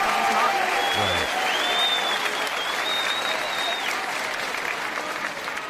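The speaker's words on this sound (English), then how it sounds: "Notice how the crowd is cheering very, very loudly about that." A town hall crowd applauds and cheers loudly and steadily for several seconds, a dense wash of clapping with a few whistles and shouts rising above it, tapering slightly toward the end.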